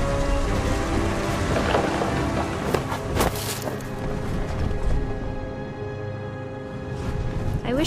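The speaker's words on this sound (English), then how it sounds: "The thunder sounded much too close and full of angry power." Rain falls and thunder rumbles in the video game What Remains of Edith Finch, with steady rain hiss broken by a few loud cracks and booming rolls partway through.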